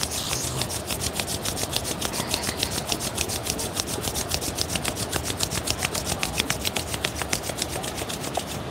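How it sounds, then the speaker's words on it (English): Palms rubbed together briskly during an outdoor yoga session, a fast, even rasping friction of many quick strokes repeated steadily and close by, with no talk over it. "Briskly rub your hands."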